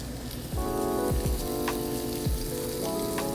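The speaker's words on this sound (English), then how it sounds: "we're gonna let those saute just for a little bit" Artichoke and scampi ingredients sautéing in a pan, a soft steady sizzle with scattered pops and crackles, close and fairly quiet, no talking.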